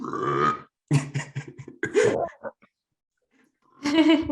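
Fake burps imitated by a voice, several short, throaty, croaking bursts in an uneven sequence with silent gaps between them, close and fairly loud.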